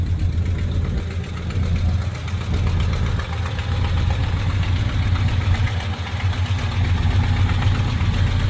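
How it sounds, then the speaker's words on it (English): A 1970 Chrysler Newport convertible's engine running at fast idle, a loud, steady low rumble with a slightly uneven, knocking pulse that holds for the whole stretch with no voices. "Dude, it started to fast idle."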